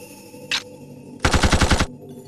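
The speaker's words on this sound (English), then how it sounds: "I call it the repeater arm cannon." A repeater arm cannon fires in the video game Blood Will Tell, one short shot followed after a pause by a loud rapid burst of about seven shots, close and alone.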